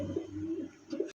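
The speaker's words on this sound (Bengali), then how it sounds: "আরও এক জোড়া কক কবুতর আছে দেখেন" Fancy Cauca (kaka) pigeons coo at close range, with two soft throaty rolling calls a short moment apart before sudden quiet.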